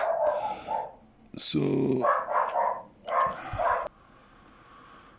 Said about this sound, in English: let's wait on the dog dying down there